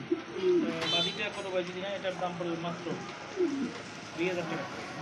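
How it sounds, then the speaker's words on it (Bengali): A female big Gopalganj pigeon coos in repeated deep, rolling phrases close by, mixed with faint voices of people talking nearby. "এটা গোপালগঞ্জের বড় পায়রার সিংয়ের একটা মাদি কবুতর"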